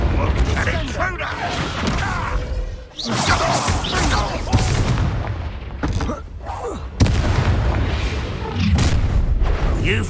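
Spell blasts and impacts boom and crackle in a Hogwarts video game duel, loud and dense with mechanical clanks, over shouted voices throughout.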